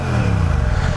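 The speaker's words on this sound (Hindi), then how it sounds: "650cc का इनका जो इंजन का साउंड है ना, और साउंड के साथ ही आपको रिफाइनमेंट भी जो मिलती है" Royal Enfield Classic 650 twin-cylinder 650cc motorcycle engine running at idle, a steady low throb with even mechanical clatter, loud and close with no talk over it.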